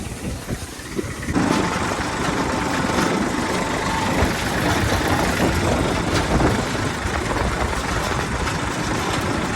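A farm tractor's diesel engine idles steadily and close by in a field, a continuous low rumble that starts a little quieter and rises after the first second, with no voices over it.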